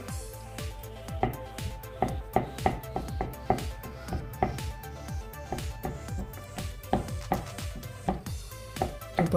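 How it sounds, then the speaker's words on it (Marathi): A fork repeatedly pricks rolled mathri dough made with added fat, giving a steady run of close, sharp taps and light knocks against the surface, with no talking. "आता या फोटने आपण असे टोचे देऊन घेऊया"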